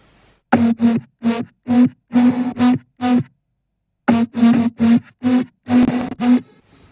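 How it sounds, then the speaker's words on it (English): Punchy synth lead notes from the drop of the song hit in a tight rhythmic pattern, two bursts of phrases separated by a short gap, loud and alone with no talking. "Now, the leads on the drop sound like this."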